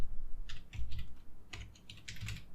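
Code being typed on a computer keyboard, a quick burst of clustered key clicks with brief pauses, close and clear, with no talk.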